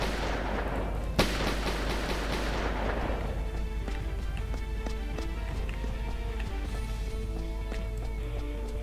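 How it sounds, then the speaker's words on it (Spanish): Gunfire in the mobile shooter Guns Rush, a burst of rapid shots with one sharp crack, then a steady rhythmic patter of game sounds over a constant low hum. "Más enemigos, disparan ahí."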